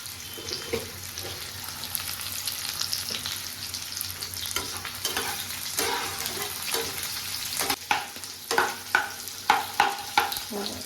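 Sliced onions with a little sugar sizzle steadily in a hot pan while a spoon stirs them, with scraping strokes growing louder and more rhythmic toward the end.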